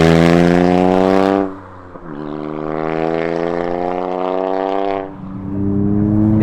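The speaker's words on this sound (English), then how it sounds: "you can hear it's quite loud now because the valve's open" A Toyota GR Yaris with an Elitsky rear exhaust and its valve open drones loudly at close range. The engine note rises, drops sharply, holds a lower steady hum, then climbs again, with no talk.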